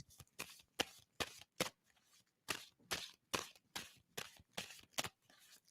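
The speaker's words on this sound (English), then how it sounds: "tell me when to stop shuffling" Playing cards being shuffled in repeated quick riffles: a dozen sharp, crisp ruffling bursts in an uneven rhythm with short pauses between them, close and fairly quiet, with no talking.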